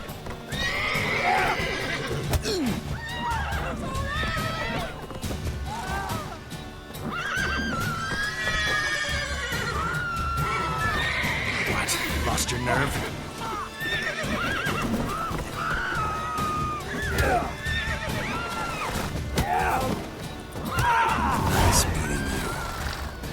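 Horses whinny repeatedly and hooves clip-clop throughout a busy scene in The Witcher 3 video game, with shouting and voices mixed among the loud, continuous neighing.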